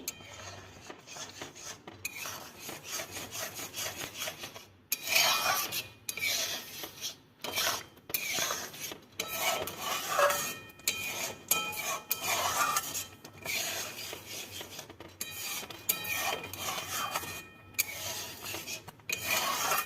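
A spoon stirring cauliflower payesh with crushed cardamom in a pan, close scraping and rubbing strokes in irregular bursts with brief pauses, fairly quiet and without speech.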